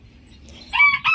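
A rooster at a home bird coop crows loudly and close in two strong bursts after a quiet, low start.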